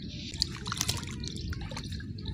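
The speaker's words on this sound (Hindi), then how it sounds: "जब तक पूरी क्यारी पूरा खेत पानी से नहीं भर जाता तब तक यहाँ पानी चलता रहता है" Irrigation water flows steadily into a village field bed in India, a continuous close gurgling and splashing trickle with no talk over it.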